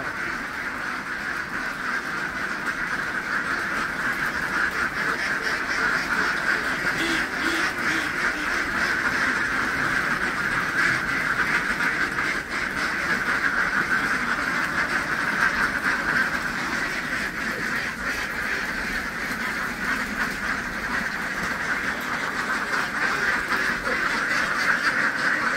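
A flock of itik ducks being moved from a truck to their pen, quacking continuously in a dense, loud chorus with steady background noise throughout and no talking.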